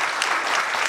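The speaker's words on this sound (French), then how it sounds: "j'aimerais que vous les applaudissiez beaucoup" Concert audience at a tribute show applauding, a dense, steady wash of clapping from many hands filling the whole moment.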